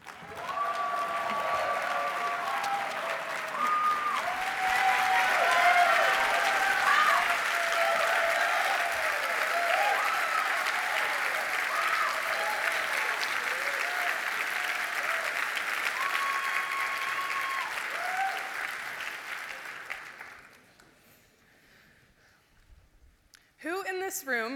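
Sustained audience applause at a 2019 CCL conference greets keynote speaker Piper Christian, a dense steady clapping that fills most of the stretch before fading out near the end.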